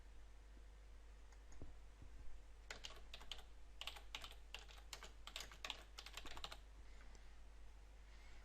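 Fingers type a title on a computer keyboard in a rapid burst of close, crisp key clicks lasting a few seconds, set against a steady low background hum with no talking.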